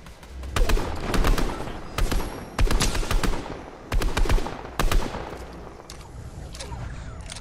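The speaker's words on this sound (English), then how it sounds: "He's shooting at them too." Gunfire in Fortnite, repeated loud bursts of rapid automatic shots in several clusters about a second apart, each burst sharp and close, fading to quieter scattered shots toward the end.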